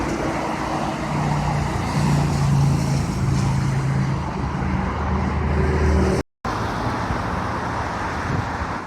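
Road traffic with cars passing, a dense, steady roar of engines and tyres that swells slightly and holds nearly constant, cut by a momentary dropout; no voices.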